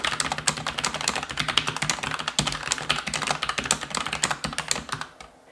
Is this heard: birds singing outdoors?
no